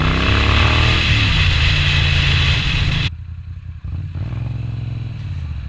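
Moto Guzzi V9 850cc motorcycle on a test ride, engine loud and close as it revs high, then drops abruptly to a lower rumble with wind noise as the rider rolls off and pulls away again.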